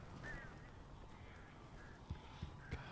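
Crows cawing in the Alan Wake video game, a few short harsh calls over a steady low ambient rumble, moderately faint, with no talking.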